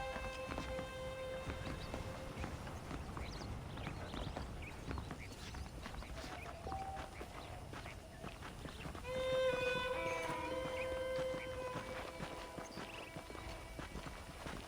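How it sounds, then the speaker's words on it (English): Saddled horses trot through a town in Red Dead Redemption, hooves clip-clopping steadily and fairly close throughout, with a brief whinny-like tone and game ambience layered over the rhythmic steps. "The horses are saddled up over here."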